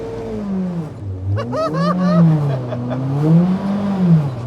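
A Kimera EVO38, the reborn Lancia, revs and shifts with wavering engine pitch rising and falling, moderately loud, with a brief higher-pitched burst partway through.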